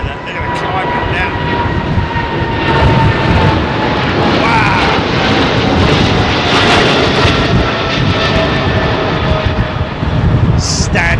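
An airplane climbs out after takeoff from Heathrow Airport, its jet engines roaring loud and sustained for the whole stretch, while voices speak over the noise.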